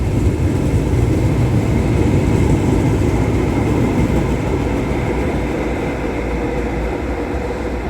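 A Metro train rolls through Four Lane Ends station, a steady loud rumble of wheels and motors holding for the whole stretch, close by and alone with no voices.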